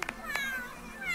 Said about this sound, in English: What are you meowing about, Miss Princess?